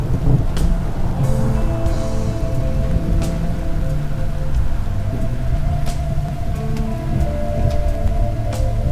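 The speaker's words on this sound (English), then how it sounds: "I'm starting to hear a few little sprinkles hitting the roof." Light rain sprinkles patter onto a roof under a canopy during a desert summer thunderstorm, a steady soft wash of drops with faint scattered taps and a low background hum throughout.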